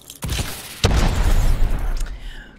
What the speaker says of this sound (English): I'm going to throw a flashbang in this room